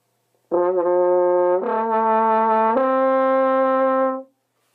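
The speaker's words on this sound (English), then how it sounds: "If you slur up two notes, you'll form a major triad." A solo French horn slurs smoothly upward through three sustained notes of a major triad, each held about a second, clear and close, with no talking.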